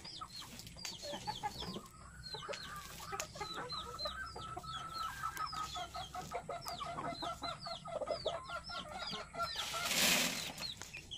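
Chickens cluck and cheep busily close by, a steady chatter of short calls, with a brief rush of flapping near the end.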